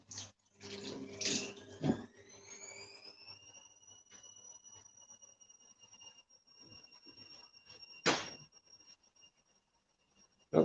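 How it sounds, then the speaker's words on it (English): Water runs from a kitchen tap while hands are rubbed and rinsed underneath, with splashy bursts at the start and again near the end around a quieter steady flow and a faint thin whistling tone. "Let's wash the hands off."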